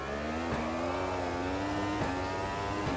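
2026 F1 car in a racing game, engine pitch climbing steadily under acceleration with three brief dips at gear shifts, loud and continuous with no talk.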